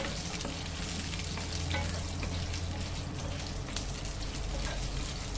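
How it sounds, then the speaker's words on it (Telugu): Chana dal and other ingredients for pudina chutney sizzle steadily in a pan, a dense crackling hiss with light stirring, close and continuous without speech. "వేసుకొని ఫ్రై చేసుకుంటాం."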